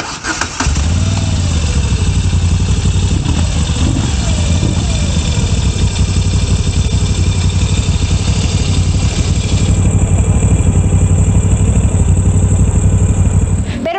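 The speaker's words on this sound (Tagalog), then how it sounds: "And tunog ng kanyang exhaust, maganda rin." A Moto Guzzi V7 Stone motorcycle with twin exhausts starts and settles into a loud, steady, close-up idle that lasts for the whole clip, with a deep, even rumble and no talking over it.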